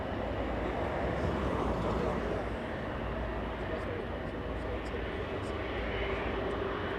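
An airliner on final approach to runway 24 right at Los Angeles International Airport, a steady, loud, broadband engine roar that holds for the whole stretch with faint radio chatter overhead.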